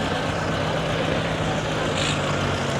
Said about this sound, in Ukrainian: зараз покажу вам отаку ось фрезу в роботі